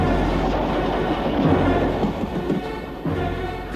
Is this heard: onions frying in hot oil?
no